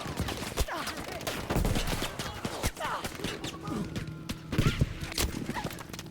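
Tank fire and machine-gun bursts in the Battlefield 5 video game, with scattered sharp shots and rapid fire, fairly faint, under a player talking.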